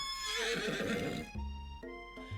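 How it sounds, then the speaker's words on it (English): A video game horse rears up and lets out a loud, close whinny lasting over a second, followed by short snorting and huffing breaths, with no voices. "your sudden movement surprised the horse and it rears up, kicking you directly in the face"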